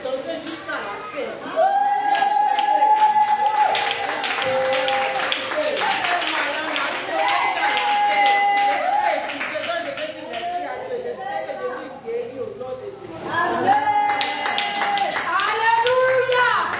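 Church congregation clapping along amid singing and a busy crowd, with chatter and children's voices mixed in; the rhythmic handclaps run loud and steady through most of the stretch, dipping briefly before building again.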